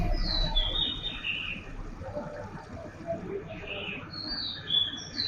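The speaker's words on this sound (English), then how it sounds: "This is a kingfisher." A kingfisher gives a few high, thin chirping calls in short bursts over soft background music.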